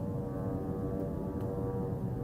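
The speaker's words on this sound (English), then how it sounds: "The sound you hear, this is, you know, this is the drone." Drone flying overhead in the Gaza war zone gives a continuous low droning hum, steady and moderately loud with no talk over it.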